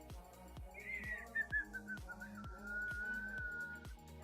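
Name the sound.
person whistling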